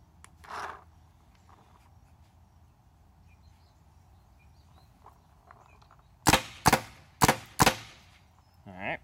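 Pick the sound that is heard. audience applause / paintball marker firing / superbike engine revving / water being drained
paintball marker firing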